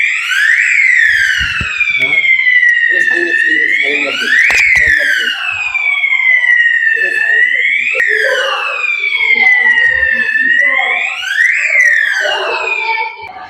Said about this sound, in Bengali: সাইরেন বেজে গেল